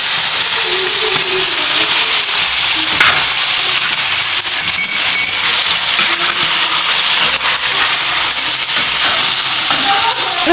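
Chicken liver with black pepper and green chillies fries on a hot tawa, a loud, continuous sizzle and spatter with occasional stirring scrapes close by.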